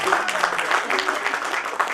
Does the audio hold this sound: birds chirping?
no